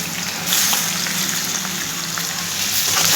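Potato pieces go into hot oil with green chillies and fry with a loud, dense, continuous sizzle and hiss, close up and with no talking.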